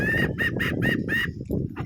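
An old man's whistle imitates a hen's clucking: five quick, evenly spaced chirpy pulses, close and moderately loud, then a couple of softer ones.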